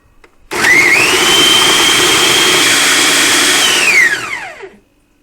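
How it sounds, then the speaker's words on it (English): A small kitchen blender purees onions and chopped tomatoes, a loud, steady whir for about four seconds before the motor spins down and fades out. "I'm going to be blending that with the onions and the chopped tomatoes."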